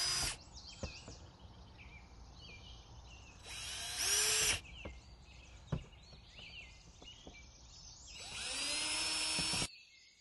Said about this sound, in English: pre-drill the starter holes for the screws, making certain not to entirely drill through the floor of your boat